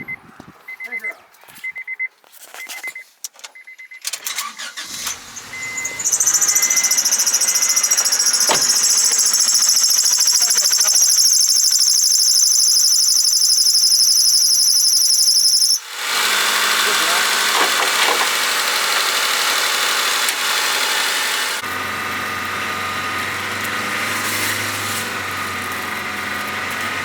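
A car engine fires up and runs at a steady, held speed of around 3,000 RPM during a head gasket repair, a loud continuous drone with a shifting tone partway through, with people talking over it.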